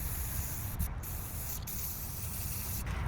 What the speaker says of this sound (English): I had this black can of spray paint lying around